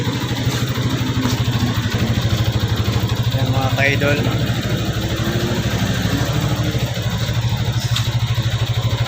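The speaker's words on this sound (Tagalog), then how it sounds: "kanina pinandar ko na yung motor para uminit" A motorcycle engine idles to warm up, a steady low throbbing pulse running continuously and close by while someone talks over it.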